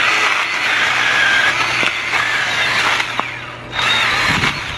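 A Milwaukee mini chainsaw runs steadily nearby, its motor whining continuously for several seconds with a brief dip in the middle, likely while it cuts through wood.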